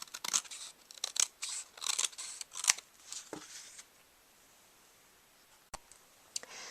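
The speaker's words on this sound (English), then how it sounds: "you can just trim that off with the scissors" Scissors trim excess card paper from a handmade horse-and-horseshoe greeting card, giving a few close, crisp snipping clicks in quick bursts, then a pause and two more isolated snips.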